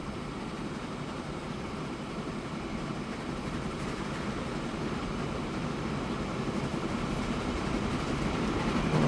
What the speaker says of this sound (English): There we go, our first double train pass.